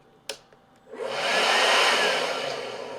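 Milwaukee compact leaf blower spooling up from slow to full speed: a couple of small clicks, then a sharp rise into a loud steady airy whoosh that holds and eases slightly, close by with no talk.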